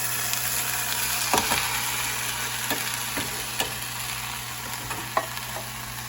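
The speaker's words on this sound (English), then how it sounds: "In a saucepan, we're gonna add corn and green beans drained, and we're gonna add butter." Corn, green beans and butter cook in a saucepan with a soft, steady frying hiss. Occasional light clicks of a utensil against the pan punctuate it.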